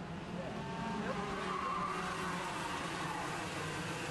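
Senior racing karts pulling away at the green flag in a WKA Man Cup race, a dense, continuous buzz of many small engines with a rising whine and steady crowd-level din throughout.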